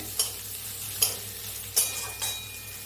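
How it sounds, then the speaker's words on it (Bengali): Chopped onions frying in a pan for egg chicken chowmein, with a steady sizzle broken by four sharp scraping stirs at roughly even intervals, close and moderately loud. "দেখুন পেঁয়াজটা আমার অল্প অল্প ভাজা ভাজা হয়ে এসছে।"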